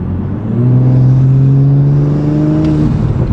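A steady Audi S5 engine drone with a rising whine building over it, the turbocharger spooling up as the car accelerates, loud and continuous from inside.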